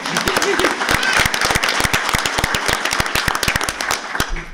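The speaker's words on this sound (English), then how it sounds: "let's give her a round of applause" Sharp, close applause at a school district board of education meeting, many distinct hand claps in a fast irregular rhythm, loud and sustained before easing off near the end.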